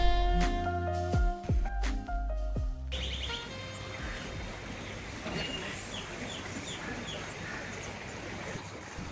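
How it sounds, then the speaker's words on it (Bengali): Small birds chirp in short, scattered calls beside a hill river near Bijanbari, Darjeeling, heard over the steady rush of flowing water. Louder tonal calls sound in the first few seconds, then the river noise takes over. "পাখির কিচিরমিচির"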